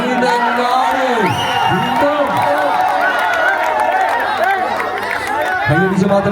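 A loud, dense crowd at a tug of war match between teams, including Thunder Boys Meenangadi, claps, cheers and whoops continuously, with shouting voices and chatter mixed throughout.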